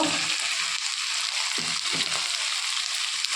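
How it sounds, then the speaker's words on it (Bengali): Prawns frying with ginger paste and tomato in a pan, a steady hissing sizzle with a few soft stirring knocks partway through, no voices. "কেটে রাখা চিংড়ি মাছগুলো দিয়ে দেব।"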